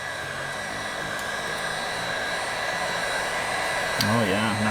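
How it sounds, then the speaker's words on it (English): Heat gun blowing a steady stream of hot air onto silicone during a resin cup pour, a constant hiss running throughout, with a brief clatter and talk joining near the end. "So we'll get a little bit of heat on this silicone."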